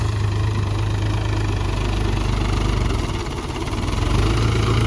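A tractor engine idles loudly and steadily close by in a dry field, a deep continuous rumble with a low chugging throb and no other sounds.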